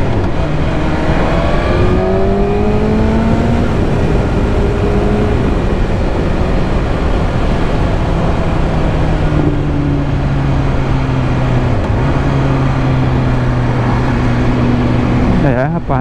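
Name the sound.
BMW S1000RR motorcycle with Akrapovic exhaust roaring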